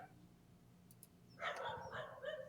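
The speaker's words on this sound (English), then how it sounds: "That dog barking?" A dog barks in a quick burst of several sharp yaps, faint and somewhat distant, heard after a quiet stretch.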